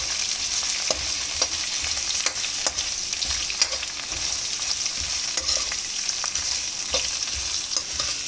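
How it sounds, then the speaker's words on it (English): Sliced onions sauteing and frying in a pan for masala dosa, with a steady sizzle and repeated sharp scrapes and taps of a stirring spoon, close and alone with no voices. "And now we are going to add our sliced onions. Saute it nicely."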